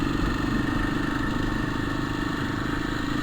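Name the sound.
motorcycle engine running with strange noise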